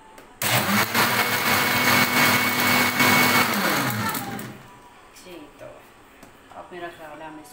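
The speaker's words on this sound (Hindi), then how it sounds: "Now I will just little bit grind it again." Mixer grinder blending phalsa (black currant) juice runs with a loud, steady whir for several seconds and then winds down, followed by quieter room sounds and speech.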